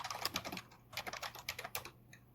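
Fingers tap out a short burst of quick, crisp keystrokes on a computer keyboard while entering code in a Python console, heard close and alone with brief pauses between clusters.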